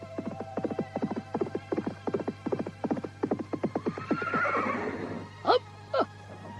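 Horse hooves clip-clop in a steady run of sharp knocks, then the animal lets out a loud whinny and two short snorting neighs close by, a staged sound effect for an Indonesian radio drama set in the Singasari era, with no talk.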